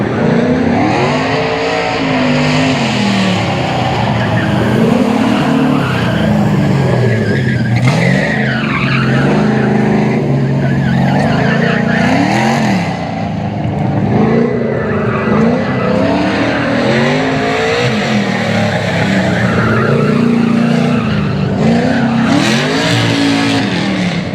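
A race car engine roars continuously as it brakes and swings through a turn, with tires skidding and squealing, loud and close throughout.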